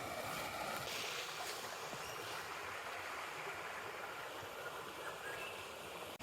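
A slightly cloudy creek runs at a good level, giving a steady, even rush of flowing water. The sound is faint and continuous, with no voices.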